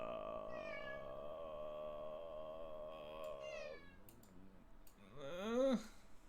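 A house cat meows during an online card game session, a long drawn-out call with a rising, bending cry near the end, fairly faint and close, over quiet room noise.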